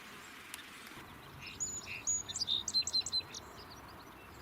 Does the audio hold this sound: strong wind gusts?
no